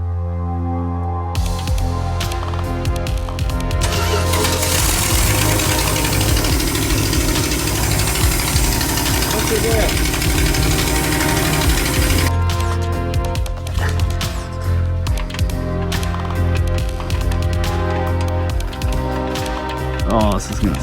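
A camper's engine starting and warming up, a loud rough idle with knocking vibration that swells and then settles into a steady running rumble, with a person talking over it.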